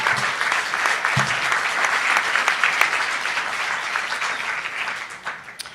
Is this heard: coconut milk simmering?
no